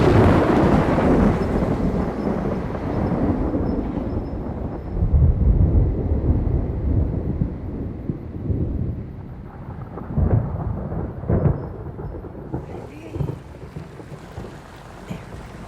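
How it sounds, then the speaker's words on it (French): An approaching thunderstorm rumbles with rolling thunder and gusting wind over steady rain, a dense, loud roar with swelling peaks. It continues for the whole stretch and fades slightly toward the end. "La tempête se rapproche."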